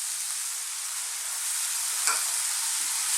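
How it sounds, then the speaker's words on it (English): Chopped fresh tomato fries on very high heat in a pan with chickpeas and mushrooms, giving a steady, bright sizzle throughout. A brief scrape is heard as the pan is stirred, and nobody talks. "So once again, on this very high heat, let's throw this around in the pan."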